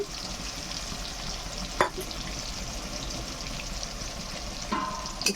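Ginger paste with a chilli, onion and garlic paste sizzles in a pan for a village-style Shillong fish curry, a steady close frying hiss broken by two brief spatula scrapes, with no talking.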